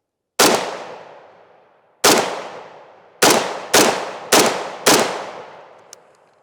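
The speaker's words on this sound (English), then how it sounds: "I got no problem taking this shot." Six loud carbine shots crack close by, each one ringing out into a long decaying echo, the first two spaced well apart and the last four fired in quick succession.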